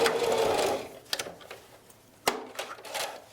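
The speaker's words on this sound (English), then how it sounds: "move down to the next elastic, and sew it again 2 or 3 times to stabilize it" A sewing machine stitches elastic onto a fabric face mask in short rapid bursts, a longer run first and then several brief stabilising passes with clicks between, close and clear.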